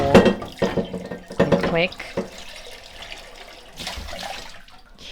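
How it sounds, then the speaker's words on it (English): A bowl rinsed under a running kitchen tap while preparing raw vegan corn tortillas; water gushes steadily and fairly close for about three seconds after a short stretch of talk. "Let me just rinse this bowl"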